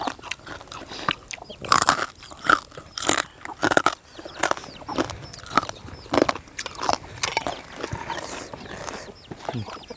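Crunchy pork rinds being bitten and chewed close to the microphone, with a steady run of sharp, crisp crunches and chomping at an irregular pace, alongside a Thai noodle salad.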